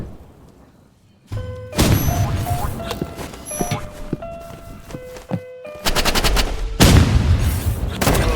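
Rapid bursts of automatic gunfire with sharp, loud shots and brief pauses, plus a few electronic tones and clicks, from a firefight in the video game Rivals.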